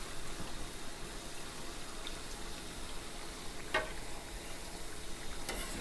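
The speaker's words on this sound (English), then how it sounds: "I don't want to fry them for too long because I don't want to have them turn brown" Mandazi dough frying in hot oil, a steady soft sizzle with faint bubbling, close and even throughout, with a couple of small clinks.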